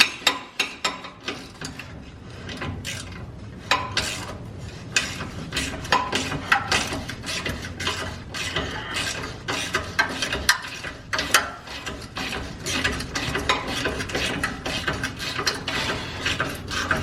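Ratchet wrench clicking steadily against a stubborn little bolt during a Subaru Legacy GT turbo removal, a close, busy run of rapid metallic pawl ticks with sharper knocks and clanks near the start, no voices.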